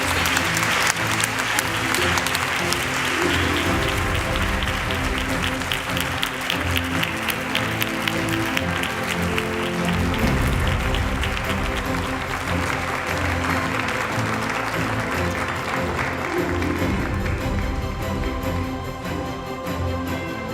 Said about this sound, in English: So let's keep the applause up, please.